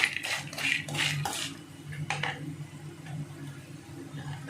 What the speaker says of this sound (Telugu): వడియలు అనేవి బాగా ఫ్రై అవ్వాలండి ఫ్రై అయ్యేంత వరకు మనం ఇలా తిప్పుకుంటున్నాము